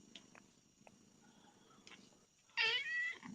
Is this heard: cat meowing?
yes